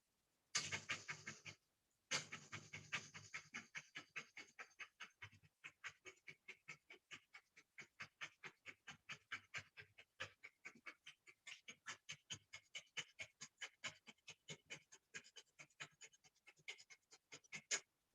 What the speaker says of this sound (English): With your nose, rapid breaths. It's coming from the bottom of your abdomen.